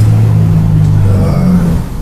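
A rat bike motorcycle with a Chinese clone of a Honda 250 engine revs loudly and close, a throaty low drone that rises and falls briefly before easing off.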